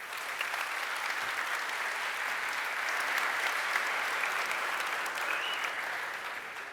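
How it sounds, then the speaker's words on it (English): An audience at a JavaScript conference applauds a speaker being introduced, a sustained, even patter of many hands clapping, moderately distant and steady for several seconds with no talk over it. "you have to be a very good round of applause to Tomasz Janczuk"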